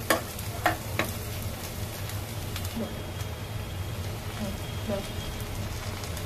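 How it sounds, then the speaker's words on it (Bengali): Whole garam masala spices, cinnamon, cardamom, cloves and bay leaf, sizzle in hot oil in a pan, a steady close crackle with a few knocks of utensils early on and faint voices in the background. "গরম মশলা দিয়ে দিলাম, দারচিনি, এলাচ, লবঙ্গ"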